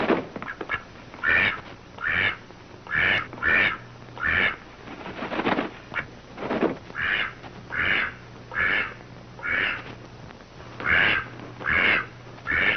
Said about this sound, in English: What happens to the duck?